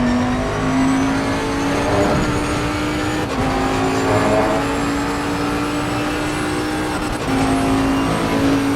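A Bentley GT3 race car engine revs hard in Assetto Corsa Competizione practice, a loud sustained drone with gear changes and slight pitch dips, steady and close throughout.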